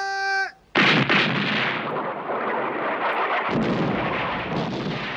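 Artillery bombardment before an attack on Turkish positions at Gallipoli: heavy booming gunfire erupts after a brief tone and rolls on continuously as a loud, dense roar with repeated thuds layered through it.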